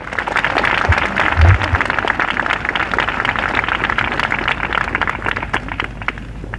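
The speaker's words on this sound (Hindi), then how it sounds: "आप प्रभु के वचन पे ताली बजा सकते हैं" A church congregation applauds together at a Christian gathering in Jagdalpur, dense steady clapping that fills the room and tapers slightly toward the end, with a few voices mixed in.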